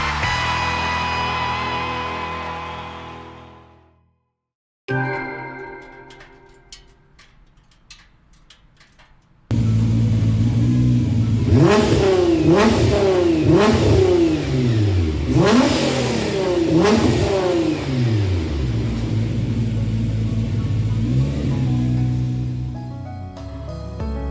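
Nissan GT-R engine racing in Gran Turismo 7, heard after a short musical passage and a pause, then loud repeated revving sweeps and gear changes, close and continuous until a fade near the end.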